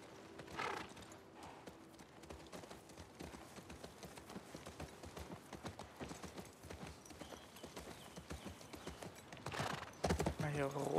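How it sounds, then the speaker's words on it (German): Steady clip-clop of horse hooves at a trotting rhythm in The Last of Us Part II, with a faint voice and a brief whinny near the end. "Schauen wir wieder aufs Pferd und reiten mal weiter."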